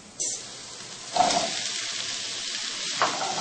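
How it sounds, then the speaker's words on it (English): Potatoes tipped into a pan of onions frying for aloo methi set off a burst of sizzling that keeps crackling steadily, with a sharper clatter near the end; close and fairly loud, no talking. "we're going to go ahead and add in our potatoes"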